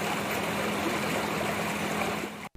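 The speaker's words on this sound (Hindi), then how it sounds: "जैकबाबाद में सैलाब से हर तरफ पानी ही पानी" Floodwater in Jacobabad rushes steadily in a loud, continuous wash with no voices, cutting off abruptly at the very end.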